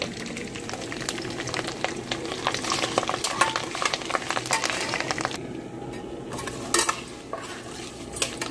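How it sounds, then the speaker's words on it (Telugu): Whole spices tempering in hot cold-pressed oil for an ivy gourd fry, a steady crackling sizzle with clinks of a spoon stirring against the pan, fairly close and continuous. "పోపులు వేగిపోయినాయండి"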